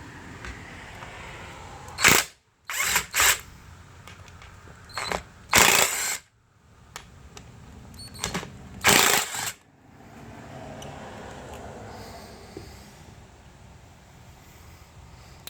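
Bolts holding a Chevy Malibu steering wheel are backed out with a ratchet and T30 Torx bit, their coarse threads biting into aluminum; several loud, close bursts of rapid ratchet clicking with quiet pauses between.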